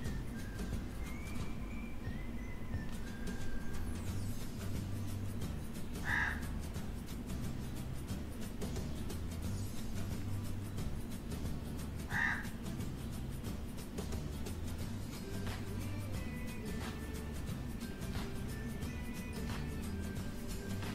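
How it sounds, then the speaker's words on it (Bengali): A crow caws twice outside, distant and brief, spaced several seconds apart over a steady low background hum. "আপনারা কি শুনতে পাচ্ছেন কাক বাইরে ডাকছে?"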